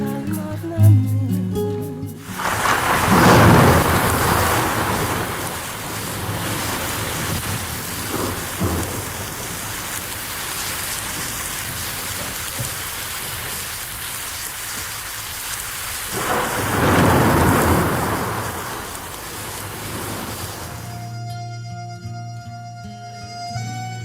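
A thunderstorm with heavy rain roars in a dense, continuous wash. Two deep rolling thunder swells rise and fade, one early and one near the end, and musical tones sit before and after the storm.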